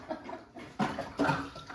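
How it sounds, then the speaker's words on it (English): A pet dog laps water from a bowl in a home kitchen, giving soft, irregular wet splashing bursts close by over faint background noise. "That's my dog, you guys, drinking water."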